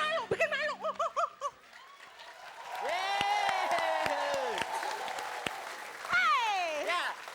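Studio audience on an Indonesian TV comedy show breaks into applause and some laughter, rising to a steady wash of clapping while a singer's voice and a presenter's talk carry over it.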